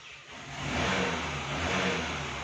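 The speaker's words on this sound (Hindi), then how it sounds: "गाड़ी थोड़ा उनका रेस हो रहा है।" A car engine revs steadily in the background, a continuous mid-pitched roar that swells after the first half second and holds fairly loud throughout, with no talk over it.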